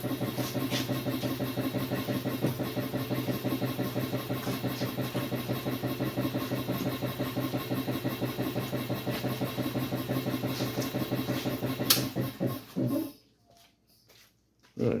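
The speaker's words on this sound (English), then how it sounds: "Shut the compressor off." An air compressor runs steadily in a garage during bodywork on a 1951 Chevy's rear fenders, a loud, continuous mechanical drone that abruptly winds down and cuts off near the end, leaving a brief near-silence.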